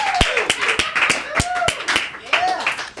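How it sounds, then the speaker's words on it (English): Sharp hand claps ring out at a brisk, slightly uneven rhythm as a studio audience applauds guests arriving on a show, close and fairly loud, with voices talking over them. "I'm clapping now as well."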